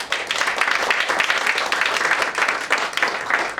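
Audience applause at a recruitment training talk, brisk crowd clapping that rises and falls in waves, fairly loud and steady with no speech over it.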